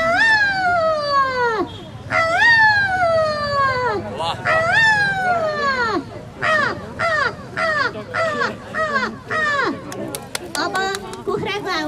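A human voice mimics a crow's caw again and again, first in long drawn-out calls, then in a quicker run of shorter caws. The voice is loud and close, with a few other noises in between.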